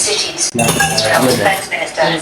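Dishes being washed after a shared meal, with plates and utensils clinking and clattering close by while a person talks over the washing.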